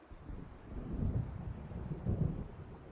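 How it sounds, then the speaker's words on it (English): Approaching thunderstorm in the video game Alan Wake, low distant thunder rumbling in two swelling rolls over a soft bed of wind. "It seems there's a storm coming."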